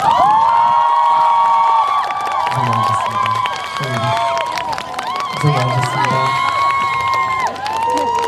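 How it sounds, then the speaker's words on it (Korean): A concert crowd at the Noeul music festival in 2018 cheers and applauds throughout, with high shouts and whoops over a dense wash of clapping, while someone talks over the noise. "박수 크게 해주셔서"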